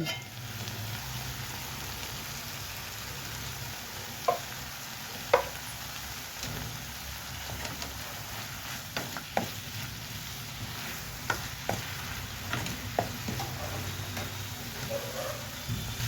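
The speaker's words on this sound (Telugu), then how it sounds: "ఒక 5 minutes బాగా ఈ ఆకులు వేగాలండి" Moringa leaves with coriander powder fry in a pan, giving a faint, continuous sizzle broken by scattered light scrapes and taps from stirring.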